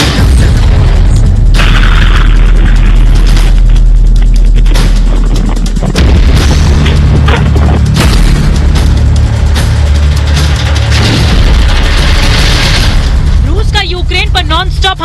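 Missile strike explosions on residential areas of Sumy in wartime news footage, loud booming blasts and rumbling bursts that fill the whole stretch, with a voice talking over them.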